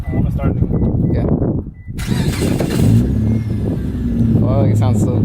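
Mitsubishi Eclipse GT with RRE headers cranking over and firing up, the engine catching and settling into a loud rough idle after a brief pause, with people talking over the start.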